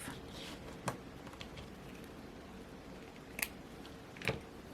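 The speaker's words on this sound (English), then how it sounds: "Let's go ahead and cut it off." Scissors snip through a bookmark tassel cord in a few quiet, sparse cuts, the clicks close and isolated over a faint room hush.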